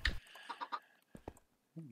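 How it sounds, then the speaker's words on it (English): Chickens in Minecraft cluck in short choppy bursts while being hit, several quick squawks in the first second, then a few sharper clucks and a low buzzing sound near the end. "Beating those chickens up."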